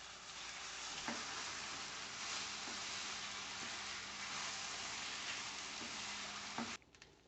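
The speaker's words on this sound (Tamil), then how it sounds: "அடுத்தது நம்ம ஊற வச்சுருக்கிற சம்பா கோதுமை ரவையும் பாசிப்பருப்பு 2 கலந்ததை இப்போ போட்டு நல்லா வதக்கிக்கலாம்" Soaked samba wheat rava mixed with moong dal sizzles steadily as it is sautéed in a pan, a close continuous frying hiss with a few light scrapes of stirring before it cuts off.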